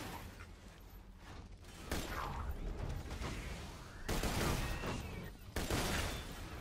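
A Legendary Pitchfork sniper rifle in Borderlands 2 fires in several loud, sharp bursts separated by pauses, with mechanical clicks and whooshes between shots.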